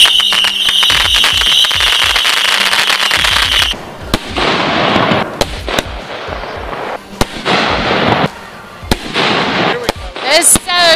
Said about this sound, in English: So I thought we were just going to shoot some artillery shells, but we are shooting everything.